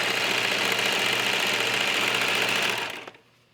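A 4-thread serger runs continuously and loudly up close while stitching a lace cuff onto a garment, then winds down and stops near the end.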